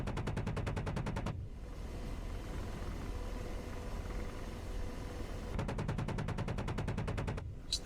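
Rapid automatic gunfire from a DCS AH-64D Apache attack helicopter destroying a disabled vehicle, loud sustained bursts at the start and end with a steady rotor and engine drone between, no talk.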